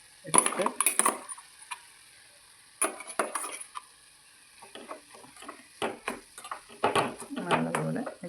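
Coconut thoran is mixed in a pan with a metal spoon, making bursts of clattering scrapes and taps up close, separated by short quiet pauses.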